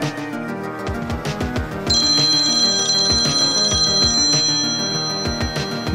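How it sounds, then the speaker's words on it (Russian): A telephone rings during a call to a veterinary clinic, giving out a bright, melodic ringtone of repeated tones that plays loud and close with no talking over it. "Так, звоню в ветеринарную клинику."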